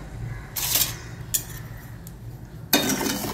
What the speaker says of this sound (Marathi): ढवळत आपल्याला त्याचा पाक बनवायचा।